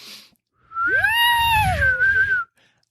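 A person imitates a whistle with a yelled, whistling tone that rises, holds, then sags and trails off, loud and close.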